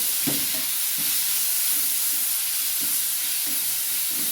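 Jackfruit pieces sizzle in ghee in a pan, a soft continuous frying hiss broken by a few dull stirring scrapes, close and moderately quiet.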